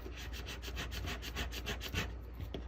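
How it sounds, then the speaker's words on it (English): Matte transfer tape and permanent vinyl are burnished onto a craft ornament with a steady, close, quiet scraping rub that repeats in fast even strokes throughout. "So you burnish the front and you burnish the back."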